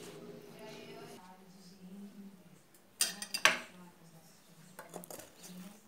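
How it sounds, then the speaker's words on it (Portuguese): A spatula clanks and scrapes against a pan during the turning of a mozzarella-filled tapioca, giving a quick cluster of sharp metallic knocks after a stretch of quiet kitchen sound, with a person talking throughout. "Vou virar a nossa tapioca."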